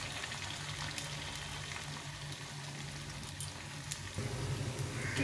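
Potato pakoras sizzling in a pan of oil, a continuous soft bubbling crackle heard up close and low in level, a little busier toward the end.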